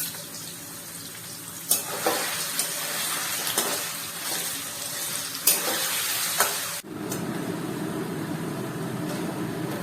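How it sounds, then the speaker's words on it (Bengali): Capsicum frying lightly in a pan, a steady close sizzle with a few sharp spatula knocks; partway through the hiss drops and turns into a softer, duller crackle. "দেখো এই জন্য এরম ভাবে ভেজে নিতে হবে, একদম হালকা করে, যাতে লাল না হয়ে যায়।"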